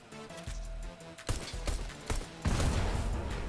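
Gunfire aimed at petrol in Fortnite, a burst of sharp loud shots in quick clusters followed by a dense crackling rush, with no talking over it.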